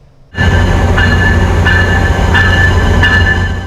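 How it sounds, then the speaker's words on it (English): A next-generation Amtrak Acela high-speed train running, a loud steady rolling roar with rumbling lows and faint periodic clicks, starting abruptly and staying constant throughout. "The next generation high-speed Acela trains are now racing passengers between Boston, New York, and Washington, D.C."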